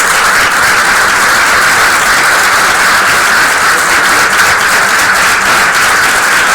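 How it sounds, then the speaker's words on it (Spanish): A seminar audience applauds a speaker with loud, dense, continuous clapping that stays even throughout, with no voices over it. "se los damos todos con un aplauso"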